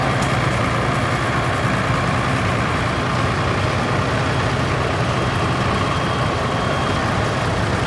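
A 1970 Farmall 1026 four-wheel-drive tractor engine runs steadily, a loud, close, continuous low diesel rumble with no pauses or changes in pace.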